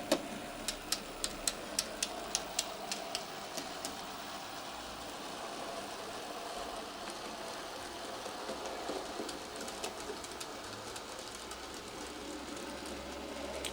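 Model railway trains run on a home layout, a faint low rumble of motors with a series of sharp clicks at the start and again later, quiet and close, with no talk.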